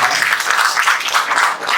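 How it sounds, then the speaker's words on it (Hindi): Audience applause at a live Banarasi poetry sammelan, dense steady clapping filling the hall, moderately loud and continuous without any speech. "आदरणीय आशुतोष जी के लिए एक बार जोरदार तालियां आप लोगों की"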